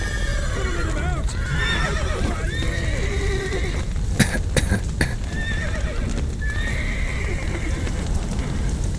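Horses neigh and whinny repeatedly inside a burning stable in The Witcher 3, with hooves clip-clopping, sharp crackling bursts midway and people shouting over the steady roar of the fire.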